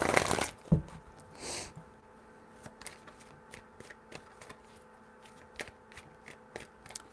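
Tarot cards are shuffled by hand: a loud riffle bursts out at the start, then quieter card flicks and slides follow in a loose, uneven rhythm close by.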